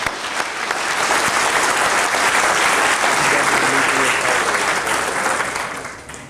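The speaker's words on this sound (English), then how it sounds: "let's have a big round of applause for Graham." A lecture audience gives a sustained round of applause for the speaker as he is introduced at a public science lecture. The clapping is dense and steady throughout, holding at an even level before easing slightly at the end.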